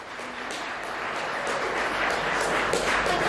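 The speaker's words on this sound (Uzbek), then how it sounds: "Qarsaklar." Diners in a restaurant in Moscow applaud a performer, dense steady clapping that swells slightly and holds without letting up.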